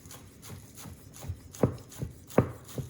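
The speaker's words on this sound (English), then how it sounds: "So I'm just going to cut those onions through lengthways." Knife taps on a cutting board while finely chopping onions, steady rhythm, about eight chops with a couple of louder thuds, close and alone.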